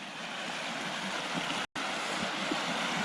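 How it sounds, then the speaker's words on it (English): Water gushes steadily over stones in a gorge stream near farmhouse ruins, a broad continuous rushing wash close by, broken only by a brief dropout. "I hear the water gushing over"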